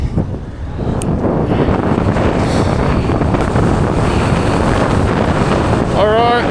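Strong wind roars across the microphone while riding a parawing on open water, a loud continuous rushing buffet with splashing beneath it.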